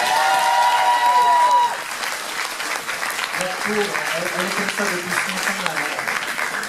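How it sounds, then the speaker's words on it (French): Audience at a cosplay parade applauds a costumed participant, a sustained crowd clapping that begins under a voice and music, then carries on alone at moderate loudness with some lower rhythmic sounds. "Alors, vous pouvez l'applaudir parce que..."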